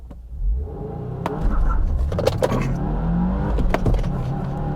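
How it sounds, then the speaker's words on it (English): A 2022 Subaru WRX Limited launches with a hard clutch dump: engine note rises and strains under heavy load, tire and drivetrain noise building, with sharp knocks and clunks through the run, close and fairly loud. "launching this car is really hard on the clutch"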